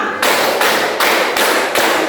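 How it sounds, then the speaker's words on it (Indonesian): A classroom group claps out a counted pattern during a school counselling lesson, five sharp unison bursts of clapping spaced evenly, loud and close, with no voices. "Tepuk 1, tepuk 3, tepuk 2, tepuk 4, tepuk 1, tepuk 5"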